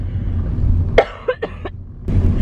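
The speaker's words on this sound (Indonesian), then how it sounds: "Kok sampai kayak gitu sih kamu batuk?" A person coughs in a short burst of a few harsh coughs over steady low background rumble.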